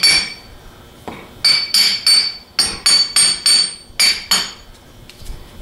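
A hammer taps an armature bushing held in a vise during a 42MT rebuild, a series of sharp metallic knocks coming in quick bursts of two or three with short pauses between them, close by and with no talk.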